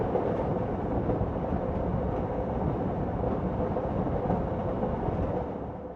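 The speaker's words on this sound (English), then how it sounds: "We step off the train and into another world" Steady, dense rumble of a train rolling along in the video game Heart of the Woods, a continuous loud, even roar with no pauses and no voices.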